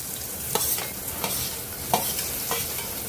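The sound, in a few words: tomatoes added and stirred into frying onion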